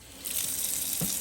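Water pours into the top chamber of a Berkey water filter, a steady splashing gush starting abruptly and continuing close up with a brief thud partway through.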